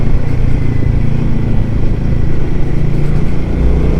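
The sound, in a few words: Royal Enfield Himalayan 450 motorcycle riding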